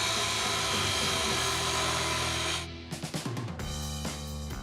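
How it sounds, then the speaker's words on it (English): Power grinder smoothing welds on the aluminum frame of a boat hull in a combat gear factory: loud, steady, high-pitched grinding that cuts off partway, then short stuttering bursts of grinding and tool noise close by. "The welds are ground down to a smooth finish."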